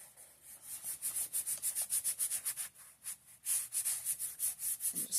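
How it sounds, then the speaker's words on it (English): A fingertip rubs pastel into paper, blending color on a drawing of an old person with quick, soft, repeated strokes; the scratchy rubbing is close and fairly quiet, with brief pauses. "Then just taking my finger, rubbing that pastel in."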